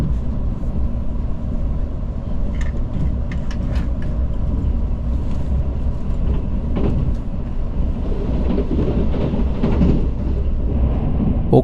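A Mugunghwa passenger train runs on the Gyeongbu Line past Simcheon station toward Seoul, giving a steady, loud low rumble with light clattering throughout, heard from on board.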